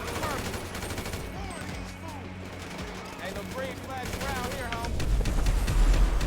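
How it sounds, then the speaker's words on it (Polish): Rapid bursts of gunfire in GTA 5 rattle under overlapping speech, with a busy, cluttered mix of game sounds throughout. "Ale ten dźwięk strzałów się fajnie zmienia."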